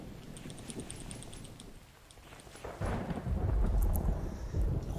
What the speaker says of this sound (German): oh, jetzt regnet es gerade